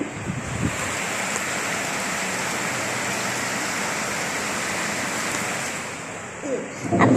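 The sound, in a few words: rain falling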